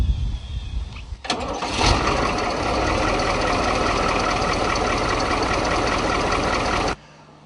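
A heavy 10.4-liter diesel bus engine starts with a sharp catch, then settles into a steady, loud idle that rumbles on for several seconds before cutting off abruptly.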